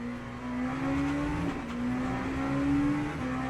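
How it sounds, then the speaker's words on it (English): An LMP2 prototype race car engine drones steadily in the Le Mans Ultimate video game, a sustained tonal hum with slight pitch rises as it revs, moderate and even throughout. "Say that look like an LMP2 in the pits?"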